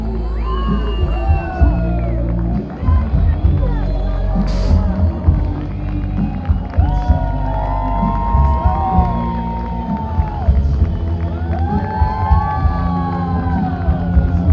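A large crowd cheers and whoops loudly for a trophy-winning volleyball team, with shouting and clapping throughout, sustained and energetic.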